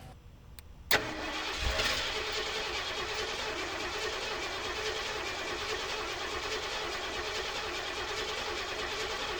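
A classic truck engine with a new fuel pump and lines cranks after a sharp start, the starter churning steadily and evenly without catching, a continuous mid-loud mechanical drone.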